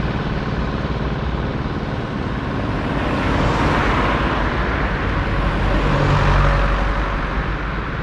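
Traffic on a quiet roadside in Serbia, where a car sweeps past with a loud broadband whoosh that swells and fades over a steady roar, followed by another approaching vehicle.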